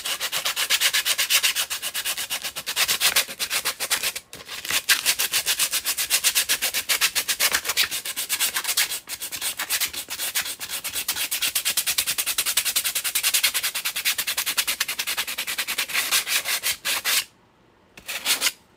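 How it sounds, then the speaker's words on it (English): Heavy-grit sandpaper rubs vigorously across a PLA 3D print in fast, steady back-and-forth strokes, close and continuous, with a brief pause near the end. "I'm going to start with some sort of heavy grit and just kind of go to town on it"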